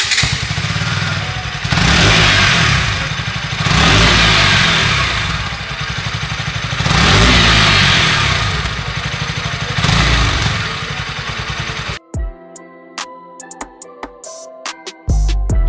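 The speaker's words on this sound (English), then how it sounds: "Has that changed the exhaust note of the bike?" A BS6 KTM Duke 200 motorcycle revving loudly through its underbelly exhaust, several rising and falling blips up close, then an abrupt switch to a sparser engine sound with a few sharp bursts.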